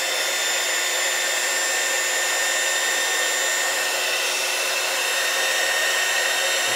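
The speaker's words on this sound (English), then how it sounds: "we could come in with a heat gun and heat up the heat shrink" A heat gun blows steadily on a hotter setting to shrink heat-shrink tubing over wiring for LED light bars on a Mustang GT, an even loud whooshing hiss with no breaks.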